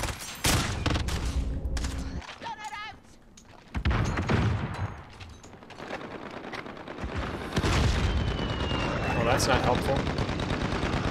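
Call of Duty: Modern Warfare gunfire, with bursts of automatic weapon fire, booming shots and explosions in irregular volleys, interrupted by a short quieter stretch while a player talks.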